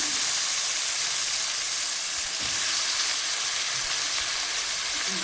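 Aubergine pieces frying in an onion masala in a pan, a steady close hiss and sizzle holding at even loudness with no talk.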